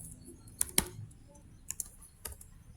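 Several crisp key presses on a computer keyboard while writing a Red Hat playbook, including an Enter press, a handful of separate clacks heard close and clear without talk.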